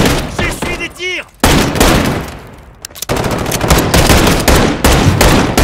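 Gunfire during an online firefight in the Call of Duty video game: loud, rapid bursts of automatic shots crackling almost continuously, with a few brief pauses between volleys.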